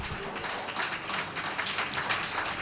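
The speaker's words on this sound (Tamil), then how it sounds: "கைத்தட்டுங்க." A church congregation claps hands together during a sermon, a fairly close, continuous patter of many hands with no speech on top.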